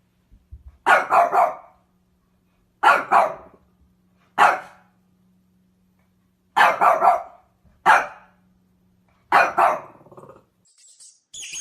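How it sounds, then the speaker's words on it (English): A dog barks in six separate short bursts, each a quick cluster of two or three loud, close barks with pauses between, over a faint low hum. "Dog."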